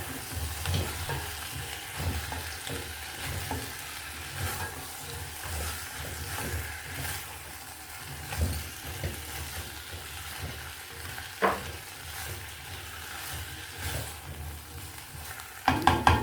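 A spoon stirring pumpkin and potato baby food in a pan, soft scraping and gentle sizzling repeating in a steady rhythm, close and quiet, ending with a few sharper knocks.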